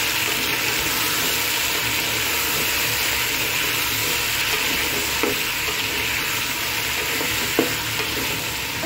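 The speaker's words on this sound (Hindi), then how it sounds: "अच्छी तरह जीरे में अरवी को हम भून लेंगे।" Taro root (arbi) fries with cumin in a hot pan, giving a loud, steady, close sizzle with soft scraping from stirring and a couple of faint knocks, no talk over it.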